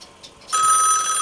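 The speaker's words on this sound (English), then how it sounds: "It is ringing." An extension on a Stromberg Carlson XY step-by-step telephone exchange starts ringing after a brief quiet moment, a steady, bright continuous ring heard close up.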